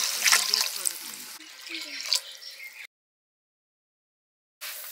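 Water poured into a pan of fried spices for a sour-spicy fish curry, a rushing splash heard with a voice speaking at the same time, then a sudden cut to silence before a short burst returns.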